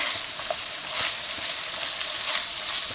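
Potatoes and meat fry for vavishka with a dense, continuous sizzle and occasional soft stirring scrapes, close up with no talking.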